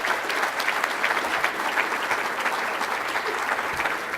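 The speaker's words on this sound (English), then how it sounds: "One round of applause for these 22 guys." A crowd at a high school football banquet applauds steadily for the team, giving dense, even clapping that fills the room for several seconds with no talk over it.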